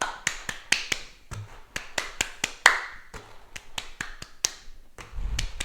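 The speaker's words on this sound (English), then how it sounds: "So I'm clapping in between my taps of the ball, or balloon should I say." Hands clapping in quick bursts between light taps of a balloon during a home tennis drill, a sharp rhythmic series of about twenty close, crisp claps and taps with short pauses.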